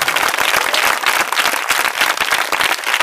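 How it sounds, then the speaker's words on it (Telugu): A church congregation claps joyfully together in praise of Jesus, a dense, loud, steady wash of many hands that continues without pause. "సంతోషంగా చప్పట్లు కొట్టి యేసయ్యను మహిమ పడతాం."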